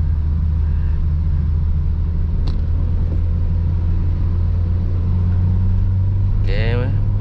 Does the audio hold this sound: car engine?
yes